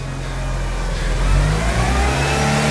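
A Mitsubishi Evo engine revs steadily upward after starting, a loud, close mid-pitched rising drone with no talk over it.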